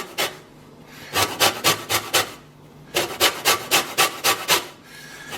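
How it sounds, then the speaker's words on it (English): A hard block of romano cheese scrapes against a metal grater in two quick bursts of rhythmic rasping strokes, about six to eight each, close and crisp with no talking. "then I'm going to grate all of this romano"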